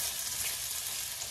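Sauce ingredients sautéing in a pan for Panamanian Johnny Marzetti pasta, a dense, even hiss of frying that stays steady and close for a brief moment, with no voices.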